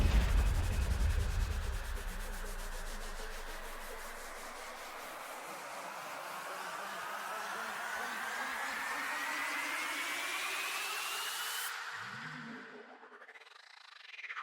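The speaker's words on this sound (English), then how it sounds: "Then in the build, we have some of these rising effects" Riser effects in the build of a dance track: a noisy whooshing swell climbs steadily in pitch for about twelve seconds, then cuts off abruptly into a brief, quieter tail.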